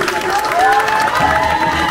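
Audience at a grand concert by a Bulgarian folk singer cheering and applauding loudly, a dense crowd roar with shouts and whistles rising over steady clapping throughout.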